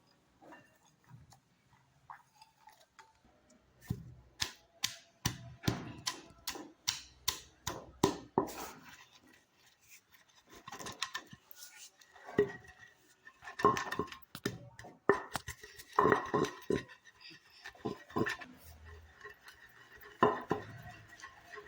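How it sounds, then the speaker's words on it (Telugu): Garlic cloves with their skins on being pounded into chili powder in a mortar, a run of sharp, close, rhythmic thuds in uneven bursts, pausing and resuming as the pestle strikes. "వెల్లుల్లిపాయ పొట్టు పొట్టుతోనే వేసి దంచుకోవాలి"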